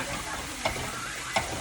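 Butter melts and sizzles in a hot pan while French toast and fried Oreos are being made. A steady, soft frying hiss runs throughout, with two sharp clicks from a utensil or the pan.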